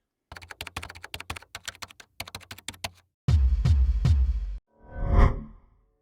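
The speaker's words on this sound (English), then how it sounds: "It started with me typing a prompt into ChatGPT." Quick bursts of typing on a computer keyboard clatter for a few seconds, then several heavy whooshing thumps follow.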